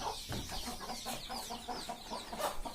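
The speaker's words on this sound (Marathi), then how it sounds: "दोन पिंजरे केलेत आणि दोन पिंजऱ्यांमध्ये ते कोंबड्या ठेवल्यात" Chickens kept in cages cluck busily and continuously at close range, their short, choppy calls overlapping with no one speaking.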